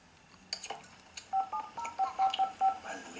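Telephone dialing in The Sims 2 video game: a quick series of about six short keypad beeps after a few faint clicks and clatters, nearby and fairly quiet.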